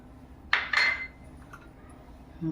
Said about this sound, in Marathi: हा गुळ मी कापून घेतलेला आहे तो कढईमध्ये टाकते